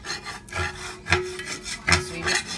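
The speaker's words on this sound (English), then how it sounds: "you want to scrape all the flavor off the bottom of your pan" A utensil scrapes the bottom of a frying pan while pork chops are cooked, four rough rhythmic strokes close up, with no talking.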